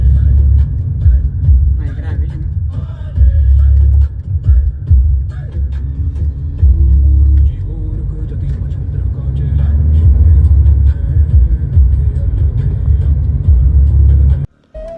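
A car driven on a highway gives a steady loud engine and road rumble from inside the cabin, with someone talking over it throughout before it cuts off abruptly at the end.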